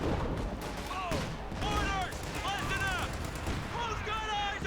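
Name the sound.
grenades exploding in Company of Heroes 2 video game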